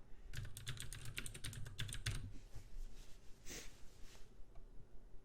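Rapid clicking on a computer keyboard as an IP address is entered, a quick close burst of keystrokes followed by a few scattered taps against a faint hum.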